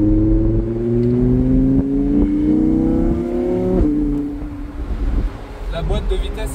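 An Audi R8 sports car engine revs up through the gears, pitch climbing steadily, a quick shift, then roaring on with wind and road noise.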